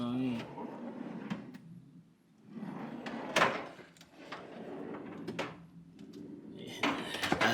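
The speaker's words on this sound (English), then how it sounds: "This is an extra drawer." Drawers on a new Husky tool box slide open and shut several times, with metallic clunks and rattling contents at close range, while someone talks over them.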